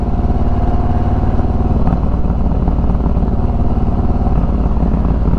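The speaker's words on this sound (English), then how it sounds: "this is a touring bike, but it still likes to get into the twisties." A touring motorcycle engine drones loud and close for the whole stretch, a steady throbbing rumble with a slight rise in pitch partway through and no voices over it.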